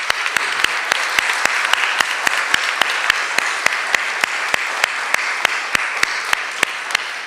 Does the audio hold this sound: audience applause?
yes